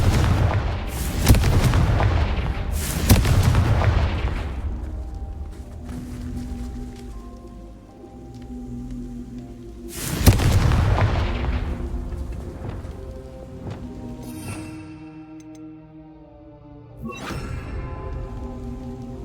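Confringo fire-blast spells going off in Hogwarts Legacy, a few heavy explosive booms spaced several seconds apart, each decaying into rumble, with quieter magical tones and shimmering effects between the blasts.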